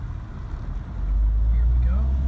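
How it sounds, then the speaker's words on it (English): A 1975 Citroën DS23 Pallas, warm after starting, pulls away in first gear, its engine note rising into a steady, close low rumble from inside the car. "Just run the gears, there's into first, and brake off."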